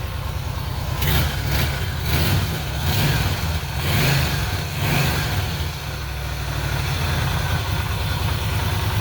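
The engine of a 2004 Suzuki Marauder cruiser motorcycle rumbles close up with a deep, steady idle and loping pulses, running alone for the whole stretch.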